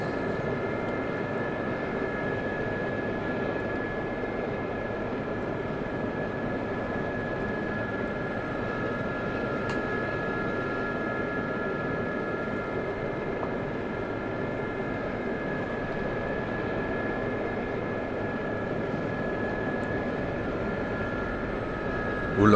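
Steady helicopter rotor and engine drone from an SA342 Gazelle or UH-1 Huey in the DCS flight simulator, flying low at about 50 metres, holding a constant level throughout with tonal whine over broadband rumble and no talk.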